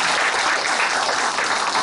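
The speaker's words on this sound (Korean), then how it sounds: "선생님들에게 큰 박수 하겠습니다" Applause after a call to honour the pastors and teachers at a church teachers' training lecture: a dense, steady wash of many hands clapping without pause, close and fairly loud.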